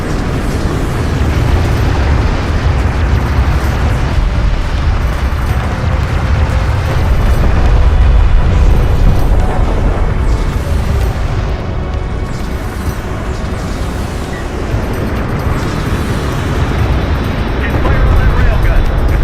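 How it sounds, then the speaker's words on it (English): In Homeworld: Deserts of Kharak, railgun fire and explosions keep up a loud, dense roar of booming blasts and rumbling impacts for nearly twenty seconds, with a voice heard intermittently over the battle noise. "Enemy railgun firing on friendly."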